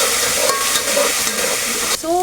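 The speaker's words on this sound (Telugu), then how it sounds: "ఆ పేస్ట్ వేసుకొని ఫస్ట్ ఆ స్మెల్ అనేది పోయేదాకా మనం ఫ్రై అనేది చేసుకోవాలి ఆయిల్లో." Ginger garlic paste fries in hot oil as it is stirred, giving a steady, close, fairly loud sizzle with a sharp clatter near the end.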